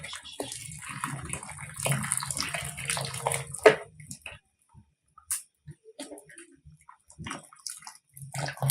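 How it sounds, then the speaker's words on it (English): Water splashes and trickles steadily as excess liquid drains from boiled mboga greens, close and moderate, then breaks into a few scattered drips and small knocks after the main pour stops. "Any excess water, we're going to drain it."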